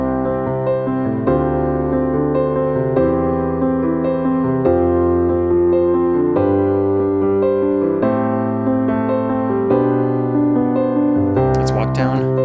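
A worship piano chord progression is played in a 2-and, 4-and rhythm pattern, with steady, evenly repeated chords changing through the progression, played solo and up close.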